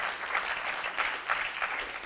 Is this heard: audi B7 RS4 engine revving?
no